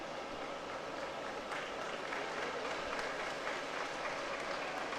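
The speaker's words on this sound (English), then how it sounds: "you can hear the crowd's appreciation for Her Excellency as she is returning to her original position" Crowd applause and cheering at an outdoor Independence Day parade as the President returns to her position, a broad, steady roar of distant clapping with a low rumbling background, continuous and unbroken.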